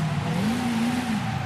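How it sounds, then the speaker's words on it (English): A rear-wheel-drive car idling in the Forza Horizon 5 video game, heard as a loud, rough, steady engine drone whose pitch lifts slightly and then settles. "this thing idling sounds like a drag fucking car"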